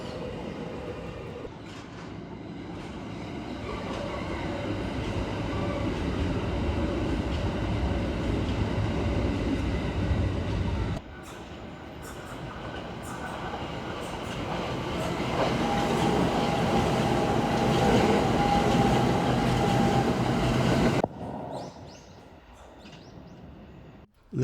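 Tokyo Metro Marunouchi Line trains pass by on the line near a quiet residential street, a long rumbling roar that swells and fades twice, loud and steady, then drops away to near quiet at the end.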